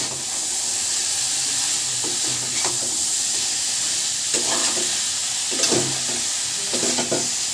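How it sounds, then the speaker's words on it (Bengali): Mutton keema with spices sautéing in a pan over a medium flame, giving a constant close sizzle broken by intermittent scraping and stirring strokes of a spatula. "এবার সব উপকরণগুলোকে একসাথে ভালো করে কষিয়ে নেব।"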